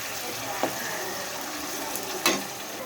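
Masala onion paste frying in a pan for a prawn and potato curry, giving a steady close sizzle with a couple of brief stirring scrapes and clinks, no talk over it.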